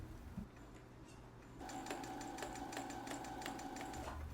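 A sewing machine stitching elastic onto a machine cover starts after a short pause and runs steadily, a quick rhythmic mechanical chatter close by with a faint whine through it.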